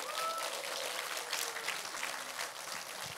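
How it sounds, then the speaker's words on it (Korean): Congregation clapping in praise at a church coronation ceremony, a continuous crowd applause with a faint tonal sound, likely music, at the start. "우리 하나님께 영광의 박수 올려드립니다"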